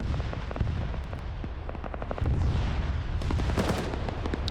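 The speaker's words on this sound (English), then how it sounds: "You can hear that 23mm going off." Rapid bursts of heavy 23mm autocannon fire in a video game battle thud and crack over a rumbling battle din, the shots coming in quick irregular clusters.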